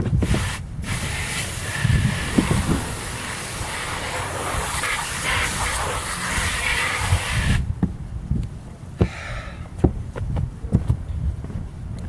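Diluted exterior degreaser is sprayed onto an RV roof in a long, loud, steady hiss lasting several seconds, followed by quieter knocks and scuffs on the roof.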